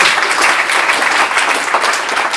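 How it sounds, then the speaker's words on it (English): Dense audience applause from a seated crowd at an interview event, steady and fairly loud throughout with no voices over it. "So give her a round of applause."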